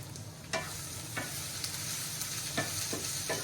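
Zucchini and mushrooms sizzle steadily in a hot pan, a continuous crackling hiss with occasional sharper clicks of stirring, close by and fairly loud.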